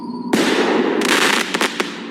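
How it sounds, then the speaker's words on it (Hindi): A Diwali firework rocket explodes: a brief tonal whine cuts off into a loud blast, followed by a crackling burst and two sharp late pops. "रॉकेट में आग लगते ही वो रॉकेट प्रेशर से नीचे गिर गया और सीधा उस खंडर हुए मंदिर के अंदर जाकर फट गया"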